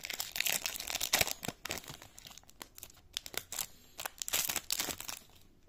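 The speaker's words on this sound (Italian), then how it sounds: "Apriamo l'altra bustina." A Dragon Ball Super trading card pack is torn and crinkled open close up, with bursts of crackling foil and paper rustling in irregular handling noises, no voices.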